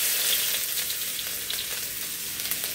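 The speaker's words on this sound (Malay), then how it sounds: "Mula-mula saya tumis dulu bahan yang sudah ditumbuk dengan sedikit minyak." Pounded galangal, ginger and spices sauté in a little oil for seafood tom yam, giving a loud, continuous close-up sizzle with no voices.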